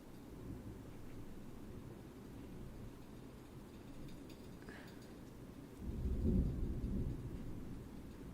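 Faint distant thunder from a lightning storm rumbles low and steadily, then swells into a louder roll near the end.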